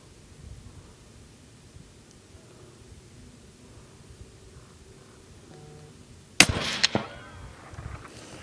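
A rifle at a long-range shooting range fires a single loud, close shot that cracks suddenly after a stretch of quiet outdoor ambience, followed by a short ringing decay and a second, weaker echo-like burst.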